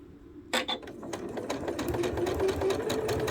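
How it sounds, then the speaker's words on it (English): A sewing machine stitches quilt pieces together using a leader and a seam guide, starting abruptly and then running steadily at close range with a fast, even mechanical whir. "Then you're going to sew it, and again, you're using a leader."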